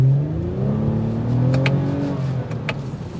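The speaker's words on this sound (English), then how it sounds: "You got the exhaust, which sounds like this." A Toyota Camry TRD exhaust revs up close, its deep, rising engine note swelling and holding before easing off, with a couple of brief clicks over the top.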